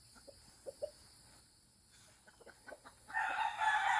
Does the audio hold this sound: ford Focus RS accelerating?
no